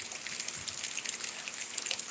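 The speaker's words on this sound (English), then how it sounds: "it's still raining enough for me to not leave the porch" Rain falls steadily beyond a porch after a summer night storm, a soft, close patter of drops spattering on surfaces with a constant fine hiss beneath.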